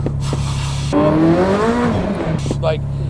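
A Ferrari F40 twin-turbo engine surges and revs up on a dyno with rising turbo whine, loud and close, dropping back to a lower drone at the end.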